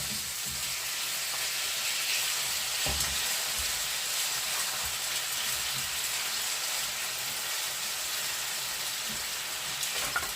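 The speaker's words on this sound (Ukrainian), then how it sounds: "Сковорідка розігрілась, викладає м'ясо." Chunks of meat for Georgian-style ojakhuri potatoes sizzle steadily in a hot frying pan over high heat, a dense continuous hiss close by with no talking.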